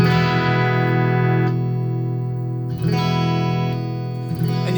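Clean electric guitar with a rail humbucker rings out in sustained, shimmering chords with a bright chime, strummed twice and left to ring, with no voices.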